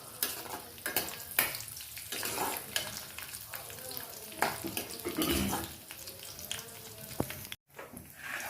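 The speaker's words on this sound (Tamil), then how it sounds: "முந்திரி பருப்பு, கிஸ்மிஸ் பழம், ஏலக்காய் எல்லாமே இந்த நெய்யில் நம்ம போட்டுருவோம்." Cashews, raisins and cardamom fry in ghee for sweet pongal, crackling and sizzling close by with occasional stirring scrapes. The sound stays fairly soft and continuous with a brief cut near the end, and no one speaks.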